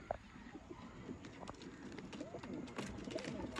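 Pet pigeons coo softly among the birds of a breeder's loft, low burbling calls layered with scattered clicks and shuffling, faint and fairly close throughout.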